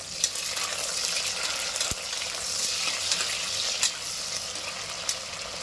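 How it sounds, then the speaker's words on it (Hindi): Okra sizzling steadily as it fries in hot oil over a high flame for a bhindi mutton curry, a continuous close crackling hiss with faint stirring taps throughout. "और भिंडी को फ्राई करना ज़रूरी है, आपको फ्राई करके निकाल लेंगे।"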